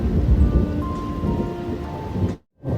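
Strong storm with heavy rain and thunder, a dense continuous downpour hiss with low rumbling, loud and close, briefly cutting out near the end before resuming.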